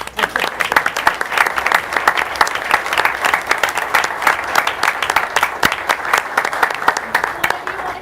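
A meeting audience claps in sustained, dense applause for the full stretch, loud and steady with no break, with a few voices faintly audible under the clapping.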